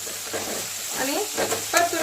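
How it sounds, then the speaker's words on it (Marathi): Masala for potato-pea pulao is sautéed and mixed in a pan, with a soft steady sizzle and a few scraping stirs toward the end, close and fairly quiet. "आणि परतून घ्यायचं, पुन्हा एकदा एकजीव करायचं सगळा मसाला।"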